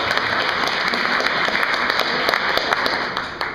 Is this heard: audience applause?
yes